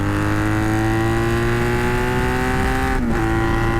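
An old Honda Magna motorcycle engine holds a loud, steady, throaty drone as the rider accelerates, with a brief dip near the end as it shifts into third gear.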